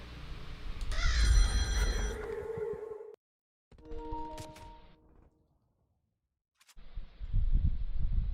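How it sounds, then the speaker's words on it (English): A phone ringing with an incoming call, bursts of electronic ringtone tones separated by short silent gaps, close and fairly clear. "Sister's ringing me."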